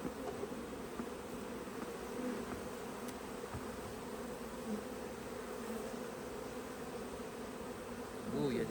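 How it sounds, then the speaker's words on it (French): Honey bee colony packed into large clusters inside a hive during autumn preparation for winter, giving a steady, dense, close-up buzz that stays constant throughout with no speech. "C'est des grosses boules d'abeilles."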